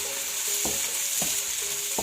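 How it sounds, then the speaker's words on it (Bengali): Sliced onions fry in hot oil in a pan over lowered heat, giving a steady soft sizzle with a few sharp spoon-scrapes and knocks as they are stirred, close by and without talk. "এখন আমি প্যানের মধ্যে তেল গরম করেছি, এখন ছেড়ে দিচ্ছি"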